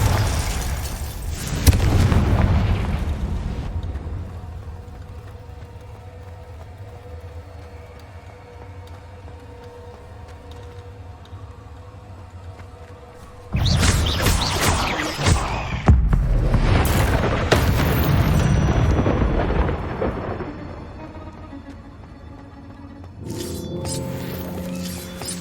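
Confringo fire spell explosions in Hogwarts Legacy gameplay, heavy booming blasts in bursts with rumbling low end, separated by quieter stretches of ambient game sound.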